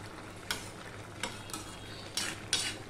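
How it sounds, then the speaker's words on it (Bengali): Vegetables with potatoes being stirred in a pan for a spice-free vegetarian dish, several soft scraping strokes at intervals over a faint steady hiss, fairly quiet and close. "আমি নেড়ে চেড়ে দিলাম"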